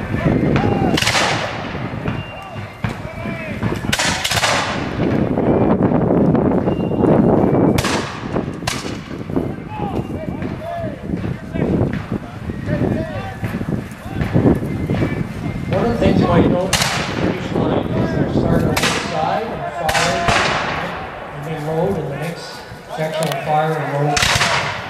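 Musket volleys and artillery booms ring out at a War of 1812 tactical battle reenactment, with repeated sharp reports and heavy blasts scattered across the field, some close and loud, others farther off, with voices in between.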